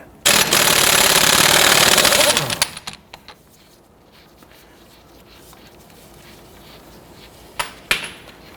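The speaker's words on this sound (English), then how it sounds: "We're going to use a 30mm socket to loosen and remove the axle nut." A 30mm socket on the front axle nut of a 1992-1996 Toyota Camry: a loud, rapid burst of impact-wrench hammering for about two seconds that winds down, followed by quiet and a couple of sharp clanks near the end.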